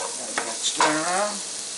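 Plain old pork and beans are stirred around in a pan over a campfire, giving a steady close sizzle with a few scraping strokes and no talking.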